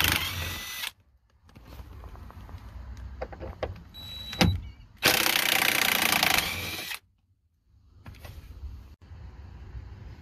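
A power tool loosens the 13 mm seat bolts on a 2005-2009 Ford Mustang in two loud, close bursts of whirring, one brief and one lasting about two seconds. Quieter clunks and handling noises fall between them.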